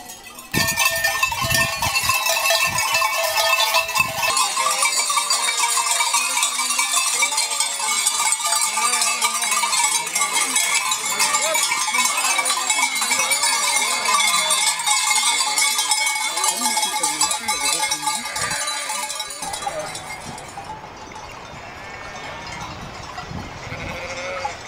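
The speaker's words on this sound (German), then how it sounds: "Das sind jetzt nur unsere Schafe drinnen, die wir quasi mitbegleitet haben von der Martin Buschhütte" A flock of sheep in large pens near a mountain hut, bleating constantly with cowbells clanking throughout, loud and dense, thinning slightly toward the end.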